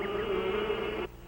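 Cartoon bees buzzing in a steady, fairly loud drone that holds evenly for about a second and then cuts off sharply, leaving only faint background.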